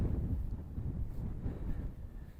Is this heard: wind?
yes